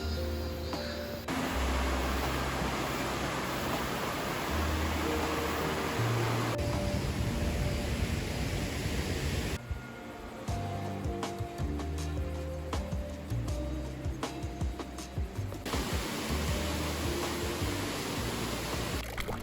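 A waterfall in Osaka gives a steady, loud rush of broadband water noise that runs without a break, with no voices over it.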